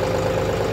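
A John Deere 5310 tractor fitted with a backhoe loader idles with a steady, loud low rumble, alone and uninterrupted for under a second.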